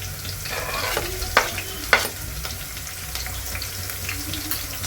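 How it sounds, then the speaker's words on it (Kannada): Garlic and green chillies fry in hot oil, a steady close sizzle with a few sharp clicks of a spoon against the pan, and no talking. "ಬೆಳ್ಳುಳ್ಳಿ ಸೇರಿಸಿದ ತಕ್ಷಣ ಹಸಿರು ಮೆಣಸಿನ್ಕಾಯಿನೂ ಹಾಕೊತೀನಿ ಜೊತೆಗೆ"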